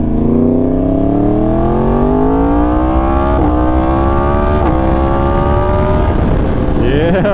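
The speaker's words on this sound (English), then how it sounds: "Little clutchless down shifts for your booties." A Yamaha R1M motorcycle engine climbs in loud, sustained revs with rising harmonic pitch, broken by quick clutchless gear shifts that each drop and restart the tone, heard close up.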